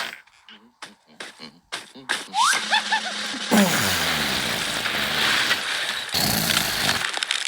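A water splash in the video game Do Not Disturb 3: a loud, sustained watery rush that follows a few seconds of voices and game sounds and holds steady to the end.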